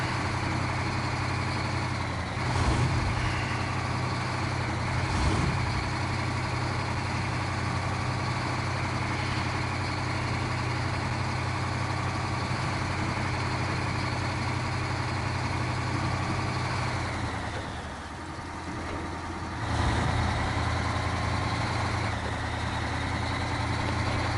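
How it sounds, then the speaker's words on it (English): The engine of a SnowRunner game truck fitted with the biggest engine available runs steadily, a continuous deep hum with brief bumps and a short dip before it returns, and no voices. "So I'll put the biggest engine I can find for this truck here in it."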